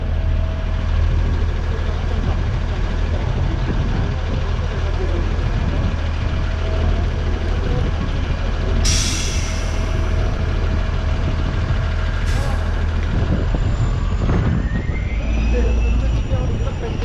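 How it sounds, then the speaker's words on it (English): Constant loud roar of city traffic on Yonge Street, engines rumbling and idling nearby with wind buffeting, a passing vehicle's hiss rising and fading. "It is busy, it is noisy, And it is windy down here"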